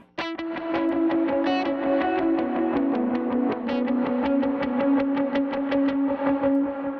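An electric guitar with a second-stage overdrive plays a worship song lead line of quick, repeated picked notes over a sustained distorted tone, loud and continuous.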